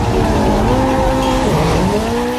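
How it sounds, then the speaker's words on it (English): Engine revs loudly and steadily under tire squeal as a car power-slides through corners in a racing video game, pitch sliding continuously for a couple of seconds with no voices. "drifting is where you get your car to power slide around corners by braking and turning at the same time"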